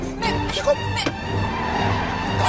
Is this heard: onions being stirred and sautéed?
no